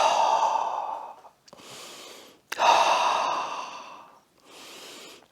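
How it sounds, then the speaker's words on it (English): Slow, deep breaths at a meditation session: two long, audible exhales each followed by a softer inhale, close and unhurried, with no talking. "Take 3 deep breaths."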